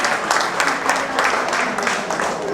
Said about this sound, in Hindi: बच्चे के तालियां बजा दें एकदम।